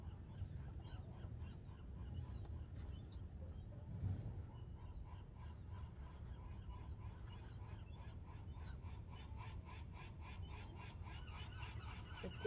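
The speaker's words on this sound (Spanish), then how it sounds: "Escucha el sonido de las gaviotas." Seagulls call repeatedly by the sea, their cries rising over a steady wash of surf and wind, with no voices.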